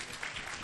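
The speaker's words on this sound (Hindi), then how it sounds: "गैर ज़बानों के लिए भी जोरदार तालियां" Church congregation clapping at a Pentecostal-style service, a brief dense burst of applause filling the room at steady loudness.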